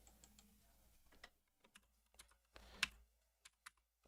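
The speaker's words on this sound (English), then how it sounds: "Do you hear the quality of the keyboard?" Keyboard typing in short, scattered bursts of clicks and key taps, close and fairly quiet, with brief pauses between clusters and one sharper clack near the end.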